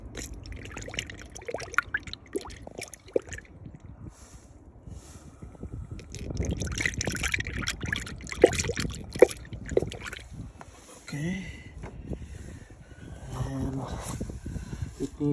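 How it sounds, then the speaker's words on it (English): New coolant pours slowly and unevenly into a Honda CR-V during a coolant flush, splashing and trickling, with handling clatter and background noise. "here is the liquid, new liquid, and I'm going to pour it slowly"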